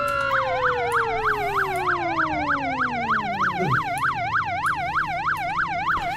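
Police car sirens in the Flashing Lights emergency-services game: a rapid warbling yelp pulses loudly and steadily while an older wail slides downward and fades out, with no talk over them.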